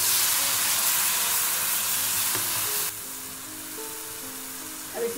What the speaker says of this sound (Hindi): अब इसमें टमाटर की प्यूरी डाल देंगे